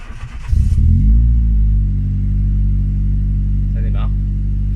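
A Renault Megane RS engine with an idle problem cranks and catches, then settles into a loud, steady low idle close by, with a brief voice over it.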